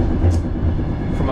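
An old Latvian passenger train on the Riga to Valmiera line rumbles along, with a steady, close, low rolling drone and faint rattling from the carriage throughout.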